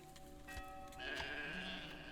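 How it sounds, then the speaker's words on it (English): Sheep bleating in the medieval city-building game Manor Lords: a couple of soft, wavering bleats heard faintly over a quiet ambient game soundscape, with no talking. "Two little sheep running around."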